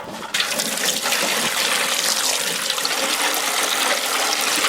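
Water pours steadily and loudly into a tub of lime putty, a continuous rushing gush close by that starts abruptly and carries on without talking.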